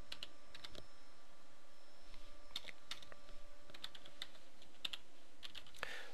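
Keys clacking on a computer keyboard while a word is typed into a Photoshop canvas, a quiet run of crisp, irregular taps spread across the clip with short pauses between bursts.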